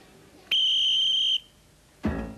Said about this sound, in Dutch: Pas op mijn fluitje, valse start terug